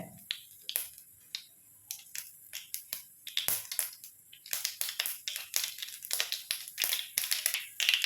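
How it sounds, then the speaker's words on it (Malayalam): Mustard seeds pop and crackle in hot oil, rapid sharp bursts, some close and loud, in a dense irregular spatter with no voices. "കടുക് ഒന്ന് പൊട്ടി വരട്ടെ"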